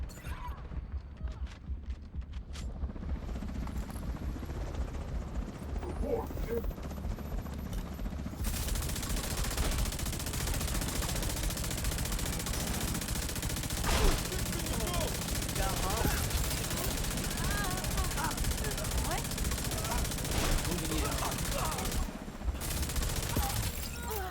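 Sustained automatic fire from a light machine gun in the shooter The Division 2 fills the scene as dense, continuous bursts with other gunfire mixed in, and a voice speaks over the shooting now and then.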